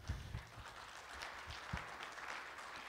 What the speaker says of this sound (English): Let's give George a round of applause for that.